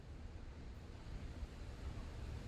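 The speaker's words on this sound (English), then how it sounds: "that's the first pour out of there" Beer flowing from a PerfectDraft keg tap, a 6.8% CH'TI Blonde, makes a steady, even hiss and gush that runs unbroken and fairly loud for the whole stretch, with no talking.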